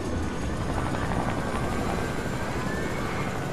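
Steady, loud Fortnite helicopter rotor drone with a low rumbling chop, continuous throughout and close by, with no talking over it.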